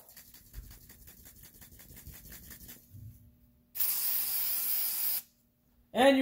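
An aerosol can sprays white lithium grease during a Nissan Rogue front wheel hub job, giving one steady loud hiss lasting about a second and a half after faint shaking and handling noises, then a short clatter.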